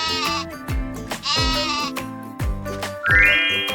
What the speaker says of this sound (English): Wow, it's a sheep!